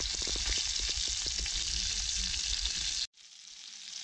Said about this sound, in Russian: Чебаки наши жарятся.